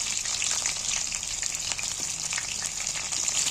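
Pieces of egg frying in a pan sizzle and crackle steadily and fairly softly, with a bright, continuous spitting texture.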